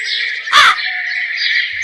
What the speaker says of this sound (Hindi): ये सुनकर कौवा जोर जोर से रोने लगता है।